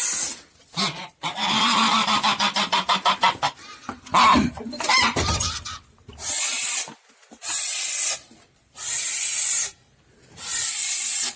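Broody geese sitting on a nest of eggs give loud, close, drawn-out hisses and rattling honks, then a series of long harsh hissing bursts separated by short silences.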